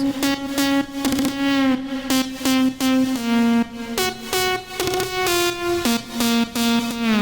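Buzzy synthesizer notes in a stepping melody, each note's tone sweeping from bright to dull through LFO filter automation, playing alone.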